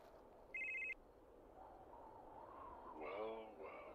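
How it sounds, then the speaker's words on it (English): In a horror video game, a phone gives one short electronic ring burst, fairly faint against a quiet, murky background, and a voice speaks a few moments later. "Where's that ringing coming from?"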